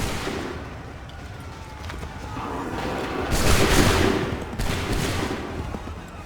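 Musket volley gunfire in Assassin's Creed 3 Remastered rumbles through a noisy battle, swelling into a heavy crackling burst midway with a second surge after, dense and booming rather than distinct single shots.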